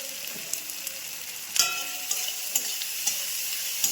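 Tomato and turmeric sauté in a pan with a soft constant sizzle, broken by a handful of light utensil clicks and scrapes from close by, no one talking.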